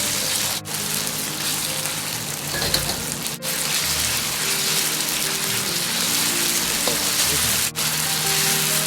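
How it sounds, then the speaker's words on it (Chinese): Pork slices fry over medium heat in hot oil with lard in a wok, giving a steady, close crackling sizzle like rain that continues throughout, with occasional brief dips. "油热后保持中火下入肉片。"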